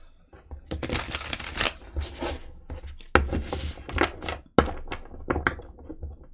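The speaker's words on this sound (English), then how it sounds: "One more shuffle." Tarot cards being shuffled by hand in several quick riffling bursts separated by short pauses, close and crisp with papery snaps.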